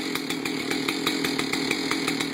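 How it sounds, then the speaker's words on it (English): Chainsaw engine idling as it warms up with the chain brake on, a loud close two-stroke putter with a fast, even pulsing beat. "chain brake goes on, and I allow the saw to warm up"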